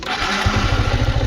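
A motorcycle engine running close by while the bike is parked on a road near Chandragiri, a low throbbing idle that swells slightly after a moment.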